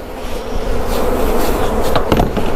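Dense buzzing of many honeybees at an open hive during honey harvest fills the clip, a steady close drone with a few louder passes near the end.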